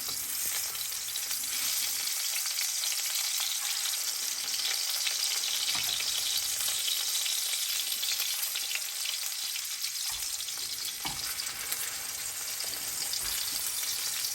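Salmon frying in a pan, a dense, steady sizzle and spatter of hot oil throughout, with occasional faint stirring sounds and no talking.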